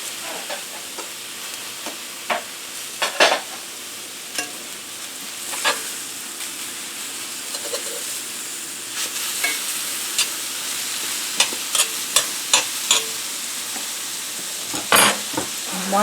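Portabella mushrooms sizzle in butter in a cast iron skillet, a steady frying hiss with sharp crackles and pops scattered throughout, heard alone and fairly close.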